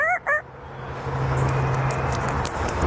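A human voice imitates a rooster crowing with two short, bright crow-like calls at the start, followed by a low steady background hum.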